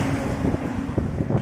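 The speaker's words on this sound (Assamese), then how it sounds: "ধুনীয়া বতাহ মাৰি আছে।" Steady wind gusting across the open Bogibeel bridge over the Brahmaputra, a close, continuous low rush buffeting the microphone.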